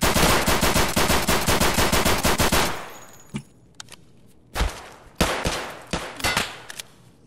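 Automatic gunfire in Escape from Tarkov rattles out in a loud, rapid burst lasting a few seconds, followed by scattered single and double shots.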